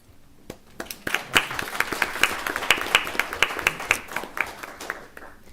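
An audience at a regular meeting applauds students with a sustained round of clapping, many hands together, fairly loud and close, with no talk over it.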